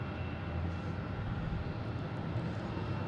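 Aircraft engines drone at Boston Logan International Airport as a continuous low roar that stays even and moderately distant through the short stretch, with no speech.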